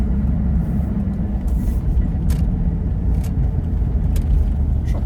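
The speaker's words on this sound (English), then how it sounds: "Still sounds like a Rover V8." A Range Rover Classic with a Rover V8 engine drones steadily while driving, a loud, deep and even rumble heard from inside the cabin with no talking.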